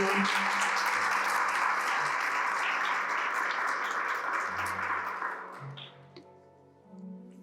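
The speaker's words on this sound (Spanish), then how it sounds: "Démosle un aplauso a Él." A church congregation applauding together, steady close clapping with faint voices underneath, tapering off after about five seconds and leaving quiet tones.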